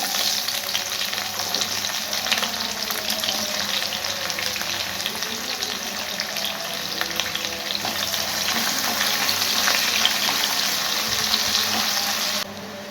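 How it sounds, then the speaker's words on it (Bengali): Chopped onions fry in a pan with a steady, crackling sizzle that holds evenly throughout, with no voices. "পেঁয়াজ ভাজা হয়ে গেছে"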